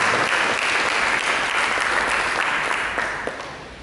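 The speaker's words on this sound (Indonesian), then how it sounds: "Mari berikan tepuk tangan." A church congregation applauds at a Sunday service, steady dense clapping filling the room for several seconds before tapering off slightly at the end.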